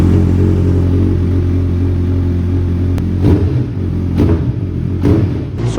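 A Suzuki Hayabusa Gen 3 motorcycle idling loud and close after a service with a fresh air filter and engine oil, its steady deep rumble lifted by several short throttle blips.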